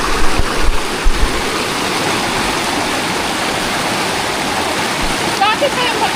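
River water rushing continuously and loudly nearby, a steady broadband roar with a few brief splashy bumps near the start and end.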